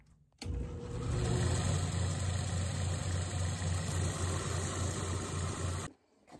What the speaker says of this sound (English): Now I'm gonna go behind me to my sander and true up all the edges.